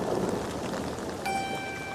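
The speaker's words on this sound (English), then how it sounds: "Then it starts to rain." Rain falls in a steady, even hiss of dense droplets, moderately loud and continuous throughout, with no voices.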